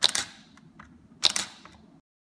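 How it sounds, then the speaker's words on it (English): Two crisp Canon T5i DSLR shutter clicks at 1/15 second about a second apart, each a sharp snap followed by a brief mechanical whir, close and isolated in quiet. "let's go look at what the shutter's doing when I take pictures at various levels of shutter speed"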